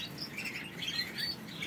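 Small birds at a bird breeder's chirp and tweet steadily in rapid overlapping calls, close by and fairly loud, with no one speaking.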